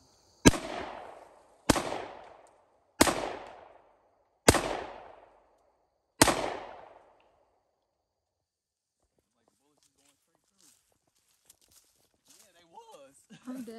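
Five sharp gunshots from a Glock 20 pistol in 10mm ring out at an outdoor shooting range, loud and evenly spaced about a second apart, each with a short decaying echo, followed by quiet and faint voices at the end.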